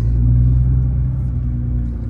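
An Audi R8 pulls hard with passengers aboard, its engine a loud, steady low rumble heard from inside the car that eases slightly toward the end, with no talking.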